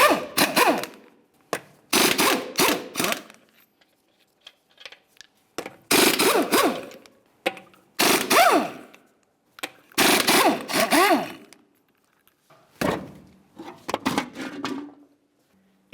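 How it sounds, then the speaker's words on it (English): Repeated bursts of an impact tool or ratchet removing the five 22mm lug nuts from a Dodge Dakota front wheel, about seven loud rattling runs separated by short pauses. "continue on to removing all 5 of your 22mm lug nuts and then the wheel"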